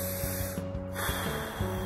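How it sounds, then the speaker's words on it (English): Close, audible breaths in and out through the nose, rhythmic and faint, come over a steady humming background. "in through my nose"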